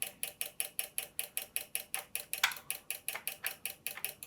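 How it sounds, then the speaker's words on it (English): A mid-1990s Sherwood RV-6030R A/V receiver with a fault clicks repeatedly after power-on, a fast, steady train of about twenty sharp relay clicks close up, with no talking. "Right, so now we've got that clicking function again."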